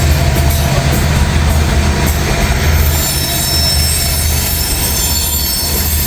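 A freight train hauling brand-new gondola cars rolls past close by, its wheels squealing loudly and steadily over the heavy rumble of the cars, with no talking.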